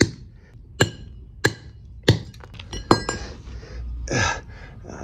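A hammer strikes something being broken open during a hunt for old buried treasure, landing as a series of sharp, ringing, glassy impacts at uneven intervals, loud and close, with no talking over them.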